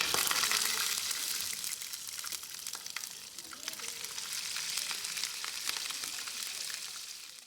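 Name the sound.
seasoned food frying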